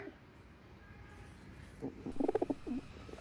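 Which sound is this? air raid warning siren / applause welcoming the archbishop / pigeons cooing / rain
pigeons cooing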